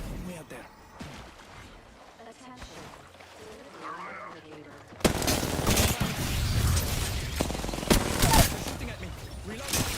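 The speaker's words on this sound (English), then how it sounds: "Shooting at me." Video game gunfire breaks out midway, a loud dense volley of rapid shots after quieter stretches where players talk over faint background sounds.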